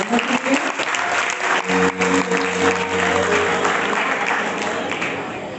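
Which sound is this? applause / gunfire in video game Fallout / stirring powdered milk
applause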